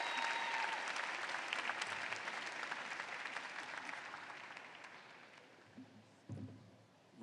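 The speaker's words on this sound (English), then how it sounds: "Give her another round of applause." At a 2017 graduate school commencement ceremony, a large audience gives sustained applause that starts dense and loud, then gradually thins and fades over several seconds.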